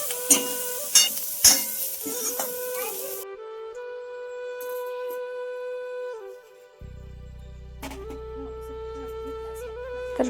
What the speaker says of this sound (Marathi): आणि नंतर यामध्ये थोडं तेल टाकून ना परतून घ्यायचं.